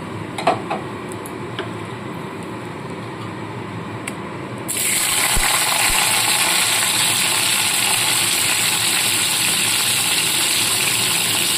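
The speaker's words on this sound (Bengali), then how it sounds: "পেঁয়াজটাকে হালকা করে একটু ভেজে নেবো" Chopped onions with black cumin seeds fry in oil. A quiet stirring hiss jumps at once into a loud, steady sizzle as the onions hit the pan, and it stays up close and continuous with no talk.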